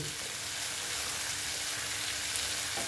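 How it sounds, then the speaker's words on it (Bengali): Spices sautéing in a pan for a soya chunk kofta curry, a dense continuous sizzle heard up close and alone, holding steady throughout. "আমার তো মশলা মোটামুটি কষানো হয়েই গেছে। একটু আর একটু কষিয়ে নিচ্ছি।"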